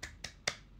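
Three sharp, quiet hand claps in a quick uneven rhythm, a close, dry tepuk semangat clap routine from a single person with nothing else around them.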